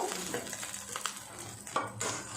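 Fresh whole fish fry in hot oil in a home kitchen, giving a soft continuous sizzle with a few scraping stirs of a utensil against the pan.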